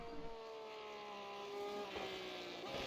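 A sim racing video game car engine whines at high pitch, holding a steady, slightly rising tone, fairly faint and continuous, with no voices.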